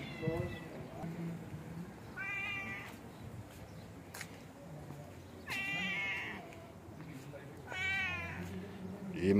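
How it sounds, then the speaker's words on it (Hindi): A cat at a mosque meows repeatedly for food, three or four clear drawn-out cries spaced a few seconds apart, close by, over someone talking. "ये माशाल्लाह बिल्ली है, ये घूम रही है यहाँ पे और खाना मांग रही है"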